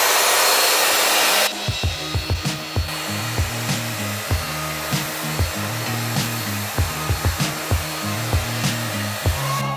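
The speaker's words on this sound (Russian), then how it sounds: "Моя любимая перловка. Лайтовые условия для пылесоса для тестирования." A Xiaomi Deerma DX888 vacuum cleaner sucks up pearl barley: a loud rushing motor whoosh first, then a steady hum broken by a regular pattern of sharp rattling clicks as the grains are pulled in.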